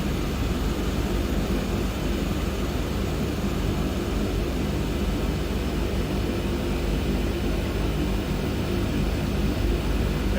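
The twin turboprop engines of an AeroSoft DHC-6 Twin Otter in a flight simulator run up with a dense, constant roar and hiss, loud and unbroken for the whole stretch, with no voices.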